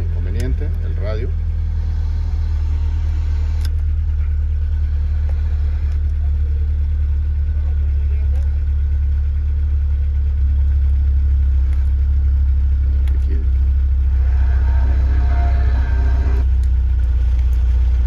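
A 1991 Volkswagen Caravelle van engine idles with a steady, low rumble throughout, while voices talk intermittently over it.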